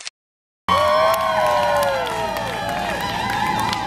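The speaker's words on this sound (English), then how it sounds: "She continued for several minutes because the crowd was cheering on" A crowd cheering at a stage performance, loud sustained shouting and whooping with scattered claps that bursts in suddenly after a short silence and carries on steadily to the end.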